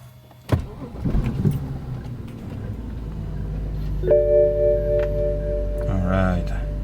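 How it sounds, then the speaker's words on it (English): A BMW 5 Series engine cranks and catches, then settles into a steady low idle hum with a bright electronic chime or tone layered over the running engine, close and fairly loud, with brief talk before the start. "So we just start the car."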